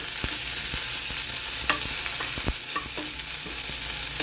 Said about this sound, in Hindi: और हरी मिर्ची भी डाल देंगे इसी में।